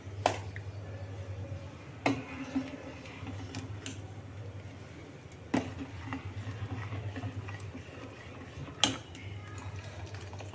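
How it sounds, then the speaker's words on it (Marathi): A spoon stirring sambar in a pot makes scattered metallic clinks and taps against a low steady hum, with occasional faint voice sounds. "आता हे सांबार सारखं असं फिरवत राहायचं आहे चमच्याने"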